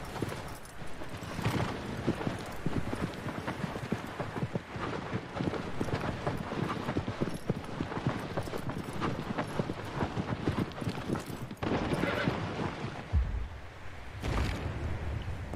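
Horse hooves clip-clopping steadily in Shadow of the Colossus, a continuous galloping rhythm with wind noise and a brief whinny, running nearly the whole time.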